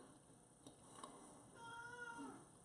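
A domestic cat meows indoors in a home kitchen where tomato bread is being baked, a few faint, tonal calls rising out of steady low room noise near the end, with no talking.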